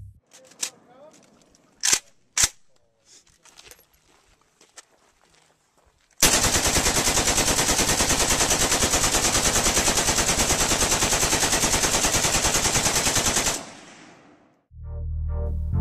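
Sustained loud burst of automatic AK-47 gunfire, a rapid continuous rattle lasting about seven seconds, preceded by a few sharp isolated cracks and scattered clatter and followed by a low rumble.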